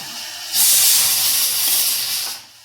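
A pressure cooker cooking a plantain stem and Bengal gram dish lets out one loud, close burst of hissing steam that holds for about two seconds and then cuts off.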